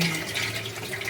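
Water running into a low-cost DIY home water tank, a steady close splashing flow that holds an even level throughout with no voices over it.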